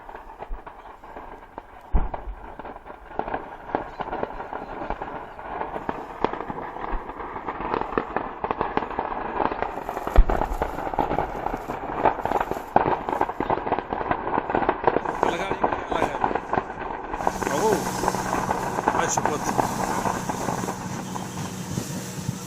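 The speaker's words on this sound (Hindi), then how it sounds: "एक पटाखा फैक्ट्री में धमाका हुआ है" Continuous crackle of many firecrackers going off in rapid bursts during a firecracker factory explosion, dense and loud for a long stretch, with a low rumble underneath.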